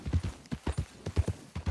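Horses in the Red Dead Redemption 2 video game clip-clop at a walking pace, a steady rhythm of close, moderately loud hoofbeats with no talk over them.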